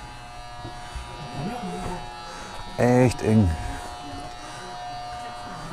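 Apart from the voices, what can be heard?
fan buzzing inside submarine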